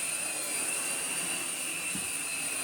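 A Vorwerk Kobold VK200 vacuum cleaner whines steadily on its medium setting, a continuous high-pitched motor drone with an airy rush and no voices.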